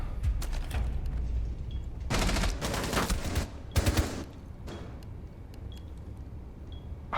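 Video game gunfire comes in rapid bursts, loud and close, with two longer volleys and scattered single shots between them, plus faint electronic beeps and no talking.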